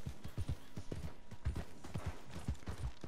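A horse is ridden along the shore in the video game Red Dead Online, its hooves thudding in a quick, steady galloping rhythm, close and clear throughout.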